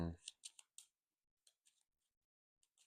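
A deck of Marvel Champions game cards is shuffled close up, heard as a few quick riffling bursts and light snaps separated by short pauses, with soft faint clicks near the end.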